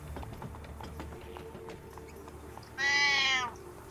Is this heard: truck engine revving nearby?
no